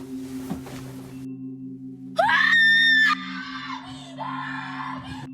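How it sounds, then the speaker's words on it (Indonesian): A woman lets out a piercing, hysterical scream at night, one sharp sustained shriek followed by lower anguished wailing, loud and close over a low steady hum. "Jeritan histeris langsung memecah keheningan malam"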